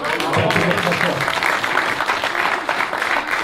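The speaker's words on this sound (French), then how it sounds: "comme ils ont applaudi très fort" Loud audience applause at a poetry and music event, dense sustained clapping filling the whole stretch with some voices mixed in.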